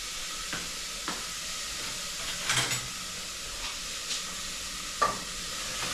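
Tomatoes and onion frying in a pan, a steady soft sizzle with occasional scrapes and stirring clicks of a utensil, close and fairly quiet.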